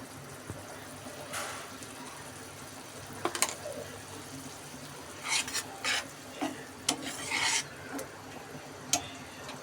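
A spoon stirs farm chicken curry with turmeric, chili and cumin powder, giving scattered scraping strokes and clinks over a faint steady sizzle in the pan.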